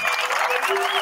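A brief burst of audience applause and ovation following a song performance at a song-battle event, a thick wash of clapping with a sustained voice or tone running faintly through it.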